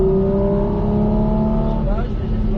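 A Porsche 718 GT4 RS accelerates hard on a racing circuit, its engine note climbing steadily in pitch with a rising whine near the end, heard loud from inside over a driving instructor's voice.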